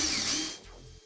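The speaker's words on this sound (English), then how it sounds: "Drill holes for brake lines." A short burst of high-pitched whirring from a power drill biting into metal to make brake line holes, winding down after about half a second, close and fairly quiet.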